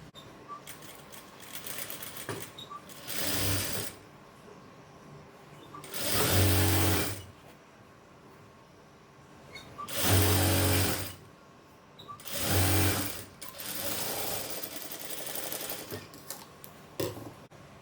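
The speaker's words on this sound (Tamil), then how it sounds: "கரெக்டாக வச்சுட்டு இந்த இடத்துல தையல் போட்டுடணும்" A sewing machine stitches lining fabric for a frill in four loud, close bursts of rapid mechanical chatter, separated by quieter handling pauses.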